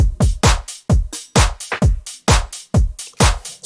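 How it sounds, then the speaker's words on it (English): Four-on-the-floor house drum groove at 130 BPM programmed in FL Studio, punchy kicks on every beat with crisp hats and claps, loud, steady and dry, no voices. "So we got a really typical house groove going on right now."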